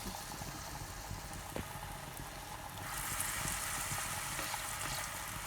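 Continuous sizzling and bubbling of zucchini fritters frying in hot oil, growing slightly louder and brighter partway through.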